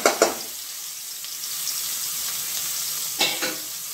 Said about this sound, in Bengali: এটা ভেজে দিলাম।